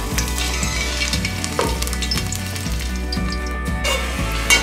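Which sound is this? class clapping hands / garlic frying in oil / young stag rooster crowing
garlic frying in oil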